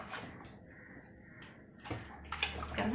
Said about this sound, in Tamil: கீரையை நல்லா கேர்ஃபுல்லாக வாஷ் பண்ணணும்